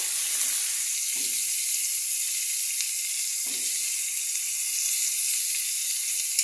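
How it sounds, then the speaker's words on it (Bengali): A hot pan hisses steadily as beans go in for navratan korma, a constant bright sizzle with a couple of soft low thuds as pieces drop, near and without talk. "এর মধ্যে দিয়ে দিচ্ছি আমি বিনসটা"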